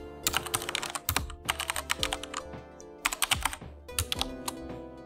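Typing an error message on a computer keyboard in a spreadsheet, with close, crisp key clicks coming in fast runs separated by brief pauses.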